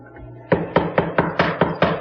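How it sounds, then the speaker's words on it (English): A dedicated hollow-chisel mortiser cuts mortises in wooden legs for a butterfly table, with seven sharp, evenly spaced thumping chops close by, each plunge followed by a short grinding tail, after a quiet start and no talking. "we like to make the mortises with our dedicated mortiser"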